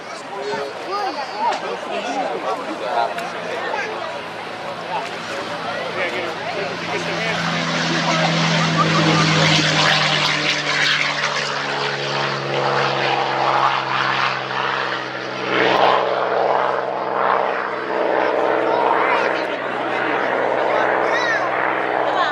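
A P-51B Mustang's V-12 piston engine roars close by, swelling to a loud throaty drone and holding steady, with people chattering in the background at an air show.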